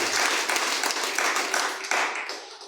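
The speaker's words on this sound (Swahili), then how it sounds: "Pigia Yesu makofi mazuri." A church congregation claps for Jesus in an energetic burst of many hands, with dense, fairly close applause and a few sharper accents that begin to thin toward the end.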